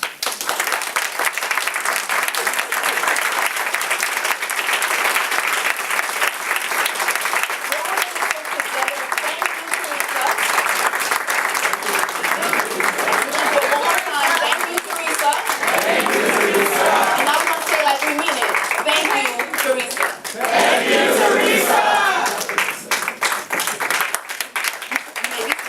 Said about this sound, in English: We're going to give her a round of applause.